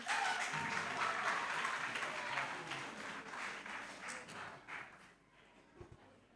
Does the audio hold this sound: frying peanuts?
no